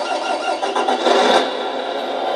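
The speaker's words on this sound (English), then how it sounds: "Now it's got that smoother diesel sound." A Tamiya MFC-03 sound unit in an RC truck plays a simulated diesel engine start: a short cranking burst, then a steady, smooth idle close to the listener.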